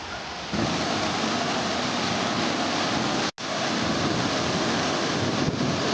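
A dense, continuous roar of rushing water from Karakkund waterfall in Kannur during the monsoon, broad and steady, with a brief cut partway through.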